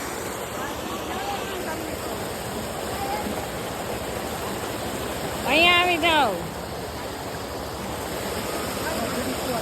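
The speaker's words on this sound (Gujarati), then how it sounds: "તો કેટલું મસ્ત ઝરણું જાય છે" A forest stream near Hanuman Gala in Gir rushes steadily and close by, a continuous broad wash of flowing water throughout, with a voice briefly speaking over it midway.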